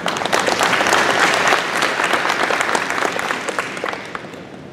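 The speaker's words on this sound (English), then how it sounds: "So round of applause, please." Audience applause at a police chief meet-and-greet community event, a loud burst of dense clapping that peaks early and gradually fades toward the end.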